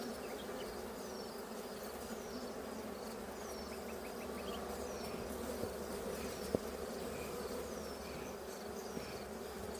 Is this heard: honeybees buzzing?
yes